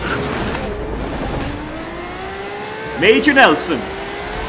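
Lamborghini Centenario racing engine in Forza Horizon 3 at Byron Bay, head to head against a Ferrari LaFerrari: a steady engine drone that climbs in pitch, with a short burst of voices over it near the end.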